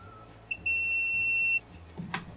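OWON XDM1241 bench multimeter in continuity mode gives a single steady high-pitched beep lasting about a second, fairly loud, followed by faint handling noise.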